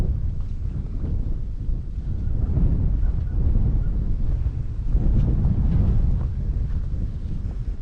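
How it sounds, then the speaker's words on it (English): Strong outdoor wind buffets the microphone on a cold morning, a constant low roar with gusts swelling and easing throughout, no voices. "I suppose you can hear the wind is pretty strong this morning."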